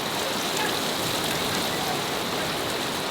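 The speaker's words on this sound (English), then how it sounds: "The rain has arrived, and dessert, but the rain too, lots of it." Heavy rain pours down steadily in the Serengeti, a dense, even hiss of falling water with no pauses or voices, close and constant throughout.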